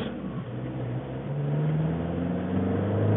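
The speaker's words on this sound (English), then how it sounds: "You feel that acceleration from the elegance of the turbo diesel unit" A VW T25 Leisuredrive hi-top camper van with a turbo diesel engine accelerating along quiet Sussex country lanes, heard from inside as a steady drone whose pitch climbs smoothly as the revs build.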